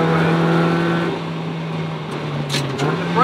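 A Mazda MX-5 engine hums steadily under load, then its pitch drops and climbs again as it shifts into third gear, heard close from inside the car with brief voices near the end.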